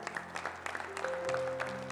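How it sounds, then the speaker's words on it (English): A church congregation gives a brief hand clap. The clapping is quiet and scattered, with a few voices and a sustained tone running underneath. "let's give God a hand clap"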